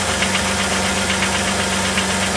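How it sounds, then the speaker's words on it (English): An idling Holden Commodore VR engine with a steady low hum and a rapid, regular metallic tapping knock from worn gudgeon pins running throughout, close and continuous. "Tapping away in the gudgeons."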